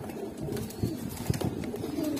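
Racing pigeons coo softly in low, throaty murmurs that roll on without pause, fairly faint, with a few slightly louder pulses.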